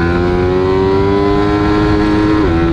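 A Suzuki Raider motorcycle engine screams at high RPM, a loud, sustained, close-up rev that holds one steady pitch and dips slightly near the end.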